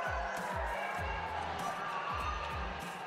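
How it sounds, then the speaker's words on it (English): A gym crowd roars and cheers after a made half-court shot at a basketball game. The noise is loud and sustained, with a dense wash of voices and shouts and some thumping low bursts underneath. "If you hear the crowd going nuts, we just had our half-court shot"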